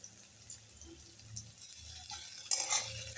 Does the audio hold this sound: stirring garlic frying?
yes